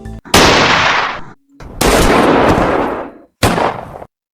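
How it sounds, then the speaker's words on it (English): Three separate gunshot effects from Roblox Studio fire one after another, each a loud sharp blast with a decaying roar, separated by short silences; the last is shorter than the first two. "So some audio that I'm gonna add is a gunshot audio."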